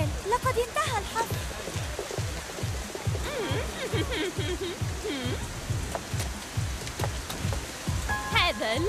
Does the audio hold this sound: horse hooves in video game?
no